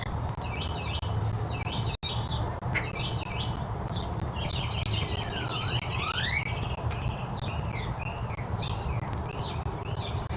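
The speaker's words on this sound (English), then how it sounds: "Birds fighting, dancing," Birds chirp and trill in quick overlapping calls, moderately close over a steady low background rumble, with no talking.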